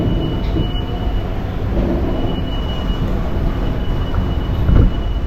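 Amritha Express passenger train, number 16343, pulling out of a station: a steady loud low rumble of wheels and carriages close by, continuous throughout, with no talk.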